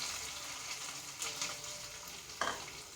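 Onions and green chili frying in a pan, a steady soft sizzle heard alone and fairly faint, with a brief louder stir or scrape near the end.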